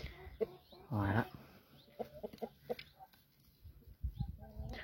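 Lemon porcelain Brahma hens cluck softly in a coop during egg collection, with one louder squawk near the start and scattered low clucks and rustling throughout, faint and close.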